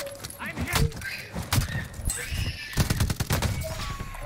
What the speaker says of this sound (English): I'm getting shot, bro.